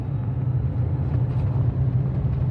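A 2013 Fiat 500e electric car accelerating hard on a neighborhood street, giving a steady, loud low rumble of road and tire noise with a faint motor hum, constant throughout without pauses.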